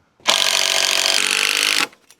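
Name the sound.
power tool driving screws into wood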